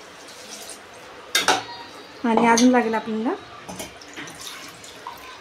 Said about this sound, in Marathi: आता मी पाणी टाकते